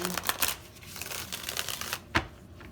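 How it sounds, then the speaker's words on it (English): Tarot cards riffled and shuffled close up in quick papery bursts, with a sharper snap near the end. "A couple more shuffles."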